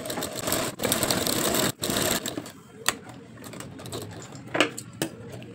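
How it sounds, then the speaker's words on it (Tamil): A sewing machine runs in loud continuous bursts stitching a quarter-inch seam around blouse fabric, then stops, followed by quieter handling clicks and small taps close by. "சுற்றி ஒரு 1/4 இன்ச்சு ஒரு தையல் போட்டுக்கணும்."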